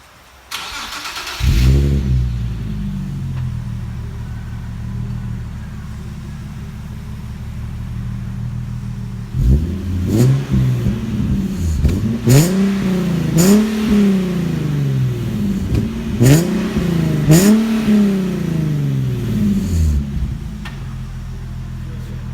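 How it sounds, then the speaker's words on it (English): A Nissan 370Z with stock exhaust starts with a loud crank, idles, then revs repeatedly in sharp bursts, each rising and falling back, close and powerful. "that don't sound bad, you know, stock exhaust"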